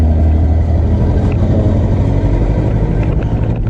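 A Honda Beat 110 scooter engine idles close by, a loud, steady low rumble with a fine even pulsing and no change in speed, heard alone without talking.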